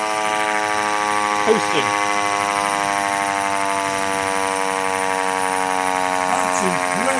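Federal Signal C5LB American police siren producing a loud, steady, rich mechanical tone that holds throughout at close range, with faint voices barely audible underneath.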